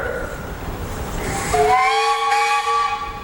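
At a threshers' steam show in Wauseon, Ohio, an engine vents a loud hiss of steam, then a steam whistle sounds a sustained, multi-toned blast nearby.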